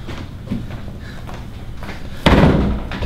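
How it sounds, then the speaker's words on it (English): A door is shut indoors with a single heavy thud near the end, following a few seconds of low room noise. "You close that door."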